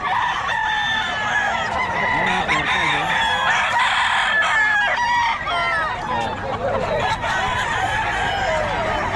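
Several roosters crow loudly and repeatedly over clucking hens, a busy, close farmyard chorus at Bocaue, with someone speaking briefly.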